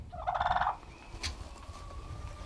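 Farm turkeys let out a loud, close rattling gobble, followed by quieter scattered bird calls and faint background noise.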